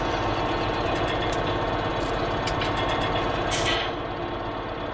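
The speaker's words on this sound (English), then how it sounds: "Lamborghini tractor." A Lamborghini tractor engine runs in the Farming Simulator video game, a steady, loud, rumbling drone that holds for the whole stretch without any voices.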